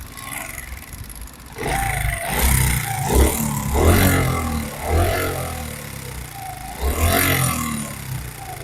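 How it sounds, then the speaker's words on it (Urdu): A new-model motorbike engine runs with a tappet fault, its steady idle broken by repeated metallic ticking and clattering bursts, fairly close and loud, with no one talking over it. "دوستو یہ آواز ہے ٹیپڈ کی"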